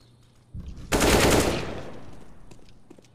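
AK rifle fire in CS:GO, a sudden loud burst of shots with a ringing decay, preceded by a softer thump and followed by faint in-game ambience.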